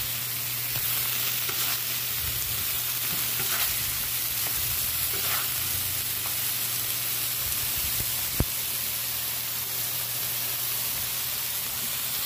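Food fries on an outdoor flat-top griddle, a steady close sizzle and hiss with a low hum beneath and a few scraping stirs and light clicks.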